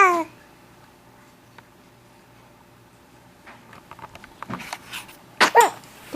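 A baby boy lets out a short sneezy burst near the end after a mostly quiet stretch with soft fussing noises, and the sneeze comes close and sharp.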